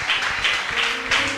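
A church congregation bursts into applause, a dense, steady wash of many hands clapping at close range for about a second and a half.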